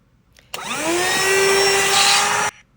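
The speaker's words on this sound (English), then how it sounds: "a really easy to use cordless portable vacuum to tidy up cars" A small cordless, DeWalt-battery-compatible portable Rueqior car vacuum cleaner switches on, whines steadily at close range for about two seconds, then cuts off abruptly.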